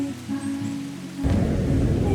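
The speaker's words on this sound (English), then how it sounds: "Starting to rain" Rain begins falling outdoors near the sea at Oban, Scotland, arriving as a sudden loud wash of patter partway through after a quieter stretch of steady low rumble.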